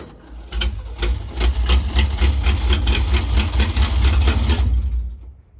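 A 1957 Chevy wagon engine, off the road for 30 years, cranks and catches, then runs loud and close with a rough, steady chugging idle for several seconds before cutting off abruptly.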